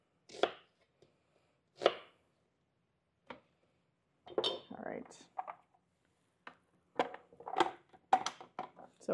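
Onions chopped in a food processor for home-canned chili starter, heard as short bursts of whirring and clattering with pauses between pulses, close and fairly loud, with no voices over them.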